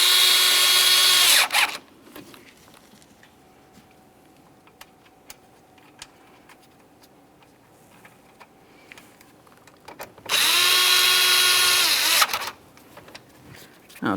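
A power drill drives screws while a radiator is fitted to a GMC Acadia: two loud, steady whirring bursts, one at the start and one near the end, with a long stretch of faint shop noise between them.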